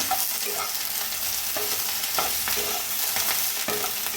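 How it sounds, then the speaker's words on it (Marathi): Okra sprinkled with salt sizzles loudly and steadily in a pan while a spatula stirs and scrapes it at irregular intervals, close and continuous with no voices. "आता मिक्स करून भाजूया"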